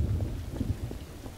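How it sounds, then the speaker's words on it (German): Steady rain with low rolling thunder rumbles in the video game Trouble in Terrorist Town, a continuous moderate wash of weather noise with no voices. "Seit wann fängt das denn hier an zu regnen?"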